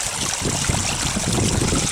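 Water from a mountain stream in Tahquitz Valley, San Jacinto, pouring into a clear plastic purifier bottle being filled, a steady close bubbling rush without pause.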